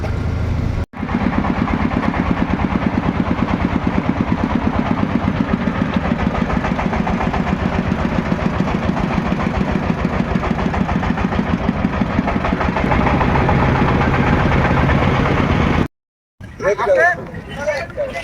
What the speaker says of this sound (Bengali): ট্রলারে করে আমরা এই পর্যন্ত আসছি।